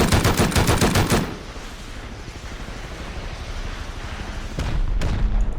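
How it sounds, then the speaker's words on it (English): Attack helicopter in Rust rapid-firing rockets, a fast burst of loud repeated bangs that gives way to a rumbling roar of motion, with a few sharp cracks near the end. "that rapid fire is crazy though. You can go through so many rockets."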